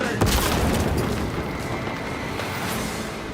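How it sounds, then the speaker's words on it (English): A frag grenade explodes in Warhammer 40,000: Space Marine 2 with a dull, heavy boom near the start, followed by a rumbling roar of battle that stays loud throughout. "Throw the frag grenade!"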